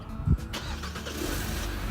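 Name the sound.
car engine starting and running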